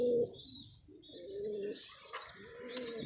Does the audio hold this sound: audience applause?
no